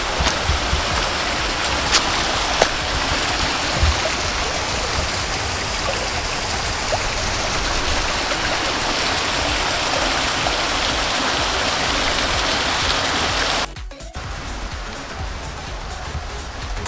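Water pouring steadily into a village water tank in Vista Hermosa, San Agustín Etla, a loud continuous rushing splash that drops a little toward the end.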